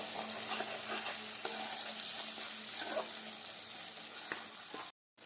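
Masala cashew paste sizzling and being stirred in a pan, a soft continuous fry with scraping stirs throughout, fairly quiet and close, ending in a brief cut of silence.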